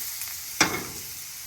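Onions fry and caramelize in a hot pan with a soft, steady sizzle, broken by one sharp clatter of a utensil against the pan partway through.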